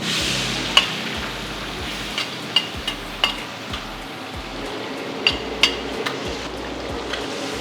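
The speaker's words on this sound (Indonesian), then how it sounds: "kita bakal masak atau numis dulu sih bawang putih dan bawang merahnya" Garlic and shallots sauté together in a pan with a steady, moderate sizzle, punctuated every second or so by sharp clinks of a spatula against the metal, with no voices.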